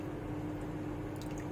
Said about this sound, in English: what you want to do is pour all of this right on top of it